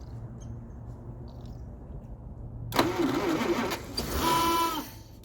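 The fuel pump on a 1948 Packard straight-eight, fed from a disconnected line, starts up partway through and runs as a close, steady buzzing whir after a quiet stretch of low background hum.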